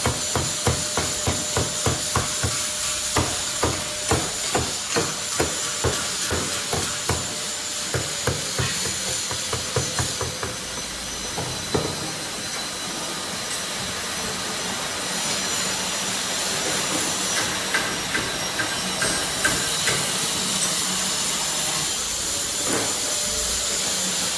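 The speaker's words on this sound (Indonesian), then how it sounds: "setelah membersihkan kerak menggunakan palu, menggunakan alat bersih ya" A hammer chips scale crust off metal in rapid, regular sharp strikes for the first half, then more sporadic knocks under a steady loud roar of background machinery.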